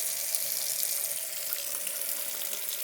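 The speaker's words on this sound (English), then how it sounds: "I just like to turn on the water." A sink tap runs steadily, pouring water over freshly harvested pawpaw seeds to rinse off the soil; the close, even splash and hiss continues without a break.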